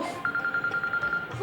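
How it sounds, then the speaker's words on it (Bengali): A phone rings with a steady repeating high electronic beep, fairly faint beneath room noise and a bit of talk in a Bangla household drama scene. "ফোন রে।"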